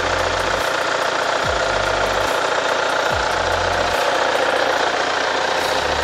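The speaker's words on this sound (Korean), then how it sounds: "엔진 소리도 일정하고 좋습니다" A Kia All New Sorento 2.0 diesel idles with the engine bay open, giving a loud, steady knocking rumble with rhythmic low pulses that recur every second or so.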